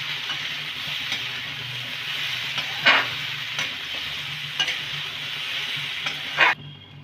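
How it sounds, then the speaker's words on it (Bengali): Cauliflower and peas frying lightly in a pan over medium gas, giving a steady close sizzle with a few stirring scrapes and clinks. "হালকা ভেজে নেব, ডিপ ফ্রাই করব না।"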